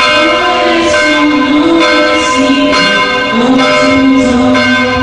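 The bell of Saint-Pierre church in Pétionville, Haiti, rings loudly and steadily, its tolls overlapping into a sustained, resonant clang with no one speaking.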